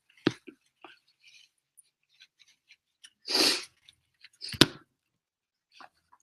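A person blows their nose into a tissue: a few faint sniffs and rustles lead to a loud, rushing blow and then a second sharp honk, with quiet pauses between and no talking.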